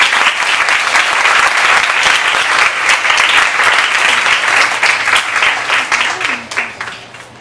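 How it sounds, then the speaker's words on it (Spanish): Loud, dense applause from an audience at a human relations talk welcoming a speaker, sustained and close for about seven seconds before tapering off at the end. "Un aplauso para ella."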